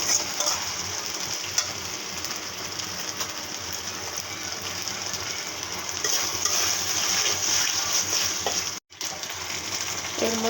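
Ginger garlic paste sizzles steadily in a hot pan as a little water goes in, a continuous close frying hiss with faint stirring scrapes and a brief break near the end.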